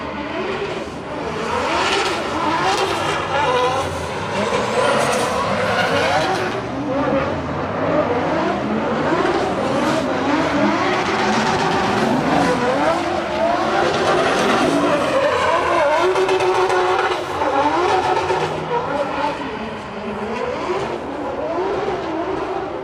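Drift cars slide through a drift race run at a practice session in Chicago, with continuous loud tire squeal and skidding over roaring, revving engines that stay dense and steady throughout, and a faint voice now and then.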